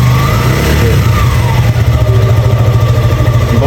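A new motorcycle's engine runs loud and close after being started, a steady low idle with a brief rev midway, then a pulsing throb until it cuts off.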